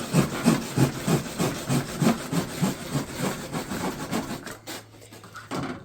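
Hand saw cutting small wood trim, close rhythmic rasping strokes in a steady back-and-forth pattern that slow and fade near the end.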